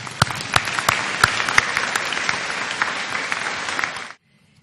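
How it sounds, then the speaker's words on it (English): A crowd at a February 2018 convocation claps enthusiastically for the graduates, with a few sharp, close claps standing out, then the applause stops abruptly into near silence. "let's give a large round of applause to all the graduates assembled here today"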